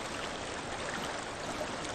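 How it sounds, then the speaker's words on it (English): A rushing waterfall in the video game Hellblade: Senua's Sacrifice gives a constant, even broadband roar of falling water, moderately quiet and with no voices. "There's a face in that waterfall."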